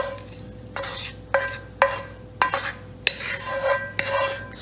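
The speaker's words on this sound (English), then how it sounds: "now I'm gonna just throw the mixture into the casserole dish" A chicken Philly cheese mixture is tipped into a casserole dish, giving a series of about six soft scraping, plopping thuds as spoonfuls land and the utensil knocks against the dish, close and moderately loud with no talking.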